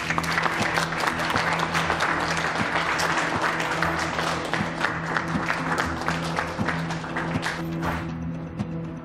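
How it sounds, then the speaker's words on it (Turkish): Steady applause from a room full of people, dense clapping that holds for several seconds with a low musical hum underneath. "Alkış."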